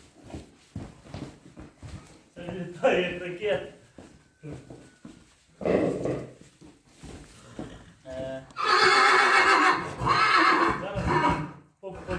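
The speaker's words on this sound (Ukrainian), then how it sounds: "Така кобила." A mare neighs in several loud whinnies, the longest near the end, with people talking in between and occasional hoof sounds.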